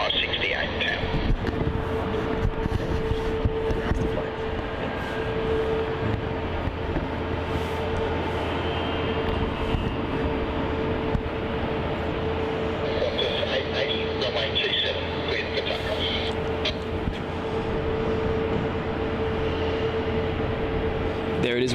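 A Qantas freight Boeing 737-300 rolls down runway 16, its jet engines a broad, steady roar heard from a distance, swelling slightly and continuing under a background voice and radio chatter.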